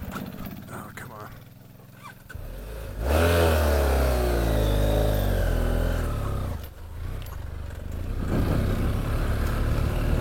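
A motorcycle engine revs up while being ridden, rising from a low idle into a strong, loud accelerating drone that holds and wavers before easing off, with a brief quieter dip and a voice heard early on.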